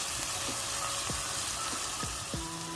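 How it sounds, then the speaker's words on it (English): Vegetables for an Asian beef stir fry sizzling steadily in a hot pan as stir fry mix coats them, with a constant frying hiss and several soft spatula scrapes and knocks spread through it. "we're going to go ahead and add the stir fry mix and coat the vegetables with it"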